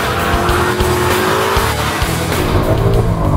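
A 2011 Ford Mustang GT with a 5-liter engine is driven hard on a police training facility course, its engine roaring loud and close while the tires squeal and skid continuously throughout.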